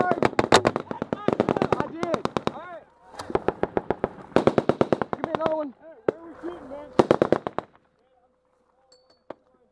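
A 60 mm mortar firing in combat, heard as a series of sharp, rapid bursts of gunfire-like cracks in loud clusters, then a near-silent stretch with a few faint ticks at the end.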